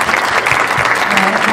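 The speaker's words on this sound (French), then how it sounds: "je voudrais d'abord vous demander de les applaudir moultement" A live audience bursts into sustained applause after a presentation, dense steady clapping filling the room at close range for the whole moment with no voices standing out.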